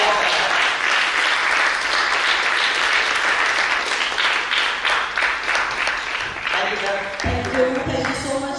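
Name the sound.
applause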